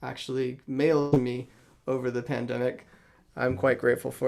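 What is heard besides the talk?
None of the usual background noises is heard.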